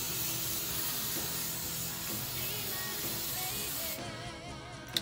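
Hairspray misted over a retro pinup bouffant updo, a steady close hiss of aerosol spray running continuously for several seconds before cutting off, with a faint tap at the very end.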